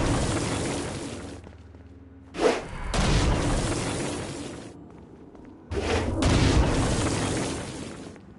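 Stone Blast explosions from the video game Saints Row: Gat out of Hell boom in two heavy bursts against flying demons, each with a sharp crack followed by a long rumbling roar, loud amid game noise.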